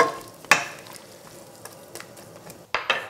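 Green beans cook in a pan with a steady soft sizzle, broken by a few sharp scraping stirs and clinks of a utensil against the pan, fairly quiet and close.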